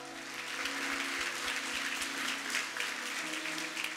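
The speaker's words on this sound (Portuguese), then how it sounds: "A ele toda honra, toda glória, a ele o seu aplauso. Aplauda Jesus." A church congregation applauds Jesus at a pastor's prompt, a broad sustained clapping under a low held musical drone, with a few distinct low thumps early on.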